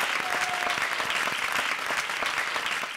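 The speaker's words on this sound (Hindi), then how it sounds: "जोरदार तालियां फॉर उर्वशी एंड काशिफ।" Loud, dense audience applause after a stage act at a comedy show, continuous close clapping that holds steady throughout with no talk over it.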